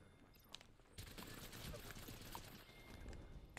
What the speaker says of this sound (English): I'm gonna try this energy rifle.